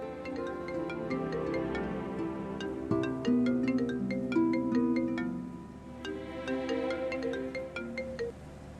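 A phone plays a melodic ringtone for an outgoing call in a drama telefilm, the bright musical pattern repeating loudly and alone for several seconds with a brief pause midway.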